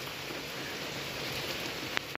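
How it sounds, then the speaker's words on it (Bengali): Heavy morning rain pours down steadily, a dense, even hiss close by that continues throughout, with a brief click just before it cuts off. "আজকে সকালবেলাও দেখো কী হারে বৃষ্টি চলছে"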